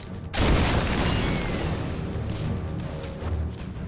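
A deep, loud blast from rigged naval shells detonated together by army engineers at a wartime fortress, a sudden boom followed by a long roaring rumble that fills the whole stretch.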